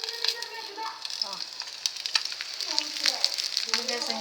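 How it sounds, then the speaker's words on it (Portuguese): Steady sizzling and spitting of an egg frying in a pan, with soft crackles throughout and no talking. "Tô fritando um ovinho pra mim."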